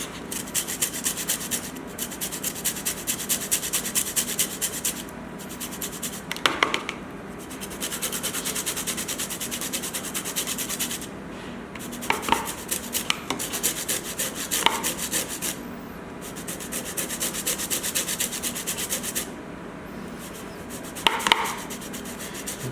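Lime being zested on a grater in a home kitchen, a steady up-and-down rasping scrape that runs almost without pause, broken by a few brief clicks and knocks.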